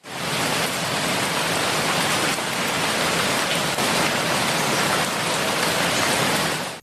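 Steady, dense rainfall hisses loud and close, an unbroken wash of drops on surfaces with no voices or pauses.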